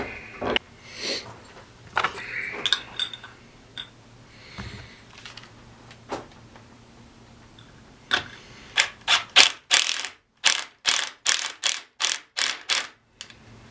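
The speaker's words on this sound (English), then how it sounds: "just so I can put the screw into it" A screw is driven into a small pre-drilled hole while building a simple homemade torch. Scattered handling knocks come first, then a steady run of about a dozen sharp, loud ratcheting clicks, close up.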